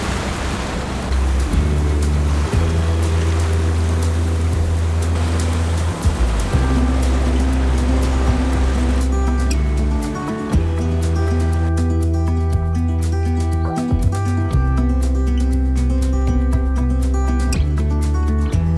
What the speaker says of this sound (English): The gentle movement of the hull rocking on water once again.